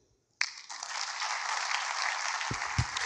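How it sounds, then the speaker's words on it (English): A conference audience at the Afreximbank Annual Meetings bursts into applause, starting abruptly after a moment of quiet and holding as a steady, dense wash of clapping, with a couple of louder thumps near the end. "if I could ask you to give them a lusty round of applause"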